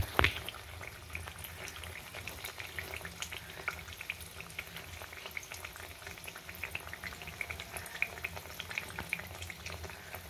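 Malpua batter frying in oil in a pan, a steady soft crackling sizzle with small pops running throughout, fairly quiet and close, with no talking.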